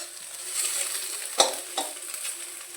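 An egg fries in a pan for homemade chowmein while a spatula stirs it, a steady hissing sizzle broken by a couple of sharp scraping knocks of utensil on metal, close and with no voices.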